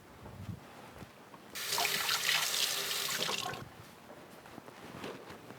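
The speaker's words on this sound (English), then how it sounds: "I'll quickly give this lemon a rinse because I need the juice of this lemon." A lemon is rinsed under a running kitchen tap, a close, steady splashing rush of water lasting about two seconds amid quiet handling sounds.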